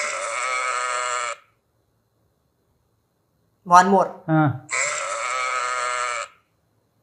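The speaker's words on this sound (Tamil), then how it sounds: "இது என்ன? இந்த இது செம்மறியாடு." Sheep bleating: two long, loud, drawn-out bleats, one at the start and one near the end, with a short burst of human speech between them.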